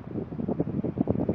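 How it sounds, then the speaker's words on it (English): Gusty wind buffeting a microphone outdoors near a lake on a sunny day, a low rumbling roar that swells and dips in uneven puffs, with no talking. "maybe a little too windy"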